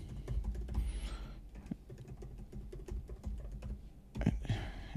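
Keyboard typing while a password is entered during a Drupal CMS installation: a steady run of close, crisp key clicks that pauses briefly near the middle, then resumes with a few sharper keystrokes near the end.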